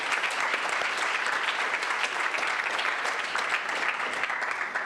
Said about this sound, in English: how about a nice round of applause for our kitchen staff for the lovely meal we had this evening